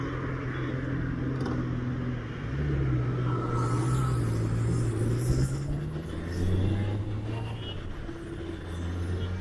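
Honda CBR 650R motorcycle riding along an open road, a steady engine drone with swelling rises in pitch as it accelerates, wrapped in continuous wind rush, loud and close throughout.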